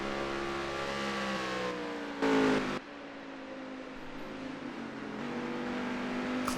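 A race car engine in Night Racing League at Gateway holds a steady drone with harmonic whine through turns 3 and 4, with a brief louder burst midway, then pitch rising as it exits onto the straight.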